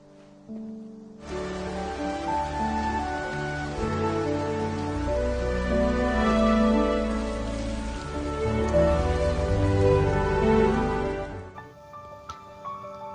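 Heavy rain pours down steadily and loudly, a dense, continuous hiss that swells in over the first second and cuts off near the end, with no voices over it.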